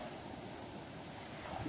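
Ocean waves washing onto an open beach, a steady broadband surf roar heard alone with some wind noise on the microphone, rising slightly at the end.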